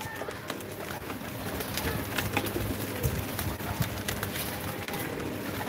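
Blue pigeons cooing among a busy flock, low throaty murmurs over steady background noise and scattered flutters.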